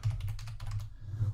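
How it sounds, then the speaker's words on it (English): Someone types on a computer keyboard: a quick run of close, crisp keystrokes in an uneven rhythm over little more than a second. "if you're gonna type in"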